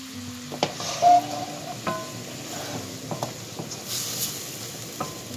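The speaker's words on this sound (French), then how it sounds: "On mélange bien." Seafood spaghetti sizzles steadily in a frying pan as it is stirred, with soft scraping and clinks of the utensil against the pan over a constant close frying hiss.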